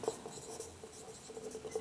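A pen writes an accounting narration entry, a faint, soft scratching with small strokes spread over a couple of seconds in a quiet room.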